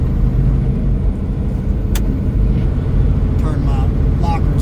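Heavy truck on an icy, snowy Dalton Highway, its Jake brake running on stage 2, gives a loud, steady low engine drone throughout, with a brief hiss partway and voices talking over it.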